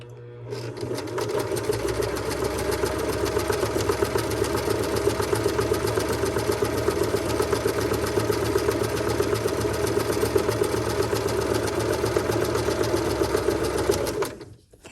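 Sewing machine running steadily while stitching a long gathering seam with a long stitch length, a continuous close mechanical whir lasting about fourteen seconds with no talk before it stops.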